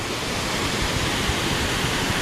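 A countryside waterfall of clear water among trees roars as a loud, dense, unbroken rush, close by and steady throughout.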